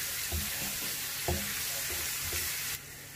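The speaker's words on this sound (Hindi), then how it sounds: "अब हम इसमें अदरक और लहसुन शामिल करेंगे।" Ginger and garlic sizzle in hot oil in a pan, a steady close hiss broken by a few soft stirring scrapes, before the sound cuts off sharply near the end.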